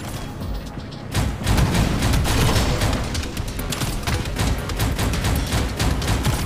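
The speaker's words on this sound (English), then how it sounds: "Time to use a pistol." A pistol fires in the Shadowgun Legends video game, a rapid, steady run of close shots that starts after a brief quieter moment and continues loudly to the end.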